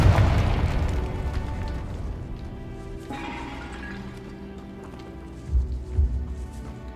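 A Confringo fire spell explodes in the video game Hogwarts Legacy: a loud, booming blast opens, its rumble slowly fades, then two more deep thuds land near the end.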